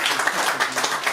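Brief burst of audience clapping at a live concert at La Zonmé in Nice, a dense patter of many hands, loud and close, lasting only about a second.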